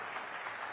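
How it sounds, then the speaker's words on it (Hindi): Brief burst of dense applause from an audience welcoming Nitin Gadkari at a Rising Bharat event, thick and continuous with no break. "तो जोरदार तालियों के साथ अभिनंदन करिए नितिन गडकरी का"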